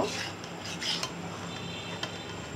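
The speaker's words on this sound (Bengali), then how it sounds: "ঢাকনা সরিয়ে উপর নিচ করে দেব" Curry in a pot being turned over with a utensil after the lid comes off, quiet scraping and metallic rubbing with a few light knocks against the pot, close and faint.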